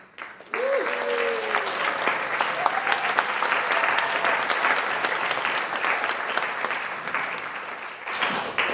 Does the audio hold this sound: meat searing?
no